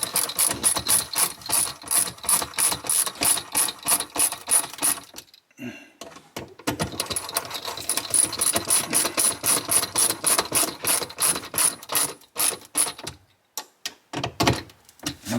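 A screwdriver ratchets screws into wood while fixing a monorail drawer, loud close rapid clicking in long runs broken by brief pauses, with no one speaking.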